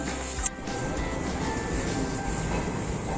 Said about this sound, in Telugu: ఇదంతా అయితే Nizamabad junction, Nizamabad railway station.